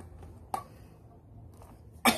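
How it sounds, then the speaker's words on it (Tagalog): A couple of short, sharp coughs close by in a quiet room, one early and a louder one at the end. "Sorry sa aking pag-ubo."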